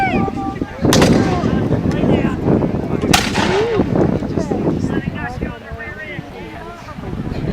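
Black-powder musket volleys in a Seminole War battle reenactment at Okeechobee: two sharp booming shots a couple of seconds apart, followed by wind noise and a distant crowd murmur.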